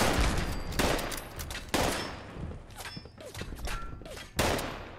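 Video game gunfire in Fallout 76: a rapid string of loud, close shots in irregular bursts, with sharp cracks and thuds separated by brief gaps and mechanical clatter in between.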